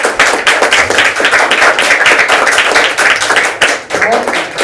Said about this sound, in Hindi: तालियां होती हैं